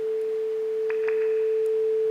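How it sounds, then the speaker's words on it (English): A pure sine tone synthesized in SuperCollider holds a single steady pitch for the whole moment, with a few faint clicks and a soft background hum. "It's just a sine wave."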